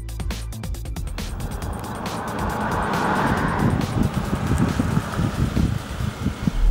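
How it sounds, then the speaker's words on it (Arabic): A Nissan Pathfinder accelerating from inside the cabin, engine note rising and straining over several seconds with road and wind noise building, loud and close. "بدي ورجيكم تسارع السيارة، شوف البطء بتبديل الجير"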